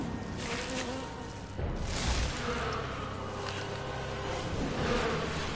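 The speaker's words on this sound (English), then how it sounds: "More bees." A swarm of insect bees drones in a steady, close buzzing hum within the Resident Evil 6 video game, continuous and moderately loud with small swells in intensity, alone without speech.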